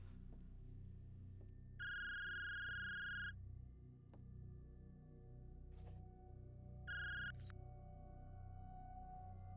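A phone rings in short electronic bursts, two rings a few seconds apart, fairly close in a quiet room with small knocks between them.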